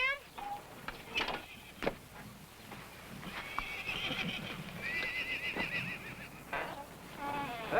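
A stallion neighs and whinnies several times, with clip-clop of hooves and a voice talking between the calls.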